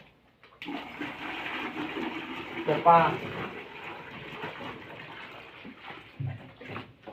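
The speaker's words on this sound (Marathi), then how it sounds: "आता गाईला आणि ढोराला पाणी पाजणं चालू आहे" Water runs steadily as cows are given a drink on a village farm, a continuous splashing flow with a person speaking briefly over it.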